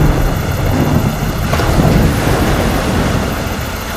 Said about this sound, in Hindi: घनघोर वर्षा होने लगती है।